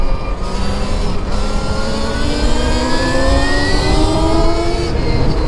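A Stark Varg electric dirt bike rides along with a loud, close, rising electric whine and steadily climbing tones over rushing wind and road noise, with no talking.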